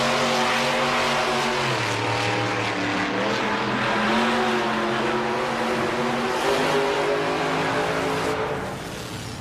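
Gravedigger monster truck at a Monster Jam World Finals qualifying race, its big engine roaring loud and steady with shifting pitch, under constant crowd and arena noise.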